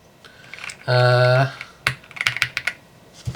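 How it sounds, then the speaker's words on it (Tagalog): A pink Royal Kludge R75 mechanical keyboard is tested by typing, a burst of rapid clicky keystrokes following a short electronic tone, close and crisp. "Siyempre typing test tayo."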